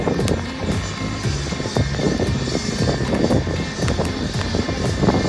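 Loud, continuous engine roar of an HAL Light Combat Helicopter performing an aerial maneuver, with a rhythmic chopping pulse and whine overhead, steady throughout.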